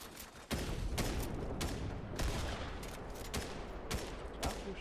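Gunfire in a Fortnite squad match: rapid bursts of loud, sharp shots in quick succession, several separate volleys over a steady rumbling game background, with no talking.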